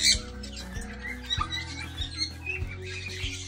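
Pigeons cooing and fluttering inside an aviary, with soft repeated low throaty calls and scattered higher chirps at close range, fairly quiet and without speech.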